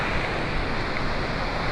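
A creek flows beside a campsite on a rainy trail, giving a steady, close rush of water noise with no talk.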